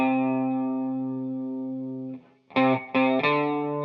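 On a guitar with a chorus effect, the bass line of a song begins with one long, sustained low note that fades, then a few short, punchy plucked notes follow, close and clear.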